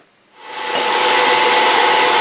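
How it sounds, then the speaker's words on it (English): A milling machine cutting a slot into a machinist vise part starts up from silence and settles into a loud, steady, close whirring grind with a high tonal whine, continuing without talk. "we're going to mill this slot right here"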